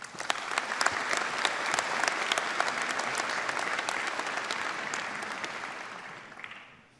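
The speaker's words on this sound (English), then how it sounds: "Please give a round of applause to Dr. Hoodbhoy" A graduation ceremony audience at UBC in Vancouver gives sustained, dense applause for an honorary degree recipient, the clapping holding steady before tapering off at the end.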